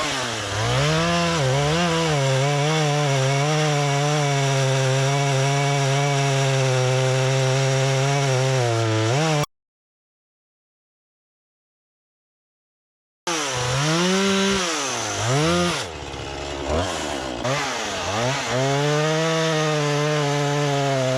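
A chainsaw cuts up a tree for a woodland burn pile, its engine whining loud and close in long sustained passes with pitch sweeps under load, stopping briefly mid-way before revving and cutting again.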